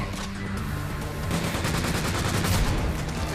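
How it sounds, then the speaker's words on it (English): Rapid gunfire and explosions in the action game Freedom Wars, a dense, continuous volley of shots that grows louder toward the end, with no talking. "Explosions all around."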